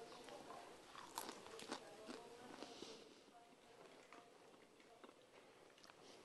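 Pre-fried içá ants bitten and chewed, with faint crunchy crackles and irregular chewing sounds close up in a quiet setting, with a voice murmuring softly underneath.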